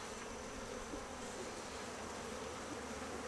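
Steady, dense buzzing of many honey bees close by at a beehive, continuous and even throughout with no pauses.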